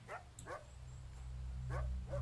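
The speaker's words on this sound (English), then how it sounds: "stop barking" A dog barks in short, faint, separated yips over a steady low hum, four quick calls spread across a couple of seconds.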